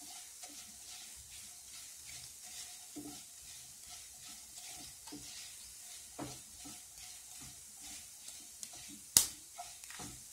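Bitter gourd frying in oil on a medium flame, a low continuous sizzle with occasional stirring taps and one sharp click near the end, no voices.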